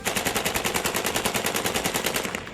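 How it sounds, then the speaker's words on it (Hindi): Rapid sustained machine gun fire from Ukrainian soldiers shooting at Russian troops, a steady fast burst of evenly spaced loud reports running continuously without pause. "जो वीडियो सामने आया उसमें यूक्रेन के जवान रूस के सैनिकों पर ताबड़तोड़ फायरिंग करते नजर आए"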